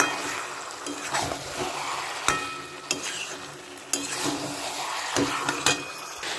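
Lifting a lid off a pot of cooking chicken brings metallic clinks and scrapes of pot and utensils, several sharp taps over a steady soft sizzle of frying meat.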